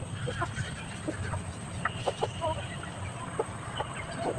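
Scattered short clucks from chickens over a steady low rumble of background noise, several soft calls spread through the clip.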